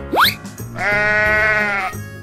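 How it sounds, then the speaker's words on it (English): A sheep bleats once in a long, wavering, tonal call lasting over a second, loud and close, preceded by a brief rising whistle-like sweep. "Sheep."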